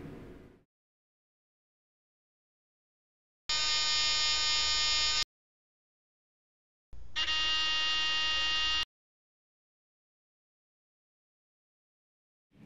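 A simple student-built buzzer circuit sounds in two steady, loud electric buzzes of about two and three seconds, separated by silence.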